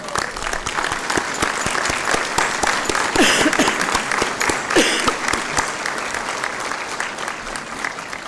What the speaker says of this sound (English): Please stand up again and give yourself a round of applause.